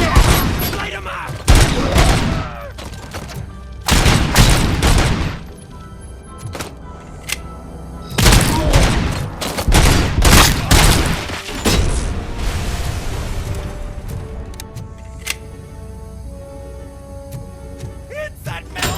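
Loud bursts of gunfire ring out repeatedly in RoboCop Rogue City, heavy volleys with booming impacts coming in clusters across the whole stretch, with shouting voices between the shots.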